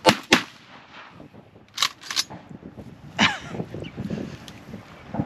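Several sharp gunshots from a duck hunt over a muddy pit where teal are flying, two close cracks at the start, then more scattered shots, with wind noise and movement in between.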